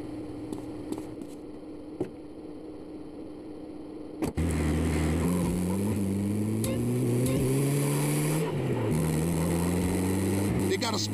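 A car engine in GTA San Andreas starts with a thump and then drones steadily as the car pulls away, pitch shifting up and down with gear changes, with faint game sounds before it starts.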